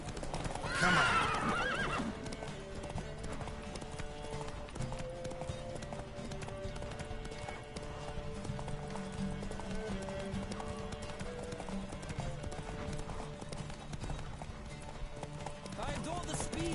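Rapid hoofbeats gallop continuously beneath a loud musical score in a horse race in The Witcher 3, with a horse whinnying near the start and a steady rushing drive throughout.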